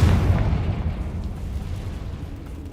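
Video game Confringo explosion spell going off: a loud, booming blast that settles into a sustained low rumble for a few seconds, with no talking.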